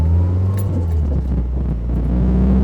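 A rebuilt Nissan SR20 engine pulls under load in a car during break-in driving, a steady loud rumbling drone with low engine tones shifting pitch as it revs and is shifted early.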